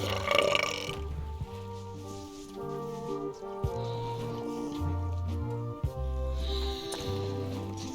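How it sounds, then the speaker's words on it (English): Cartoonish burps from a burping contest in the video game Return to Monkey Island, a series of long, low, drawn-out belches in succession with brief gaps between them, heard alone and clearly. "how about a burping contest?"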